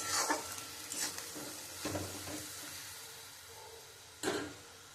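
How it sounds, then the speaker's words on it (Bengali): Chili and turmeric powder paste is stir-fried in a pan for a fish curry. A soft sizzle runs underneath several sharp spatula scrapes and knocks against the pan, heard up close with no talking. "দিয়ে আমি মশলাটা দিয়ে খুব সুন্দর করে একটু কষিয়ে নেব।"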